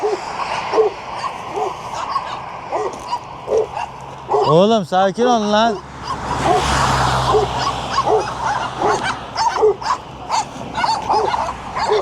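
Several dogs barking and yipping excitedly nearby, with a whimpering, high wavering howl in the middle, while someone speaks over them.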